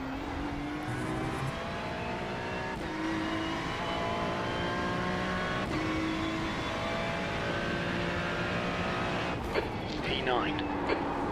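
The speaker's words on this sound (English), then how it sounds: "Go ahead and listen to the engine of the 296." Ferrari 296 race car engine in the iRacing sim at Oulton Park: a continuous high engine whine rising through gears, with pitch sweeps and shifts, heard under a voice speaking.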